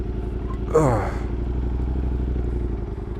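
A Ducati motorcycle engine runs while cruising through Houston, a steady, close mechanical drone. A brief voice cuts in near the start.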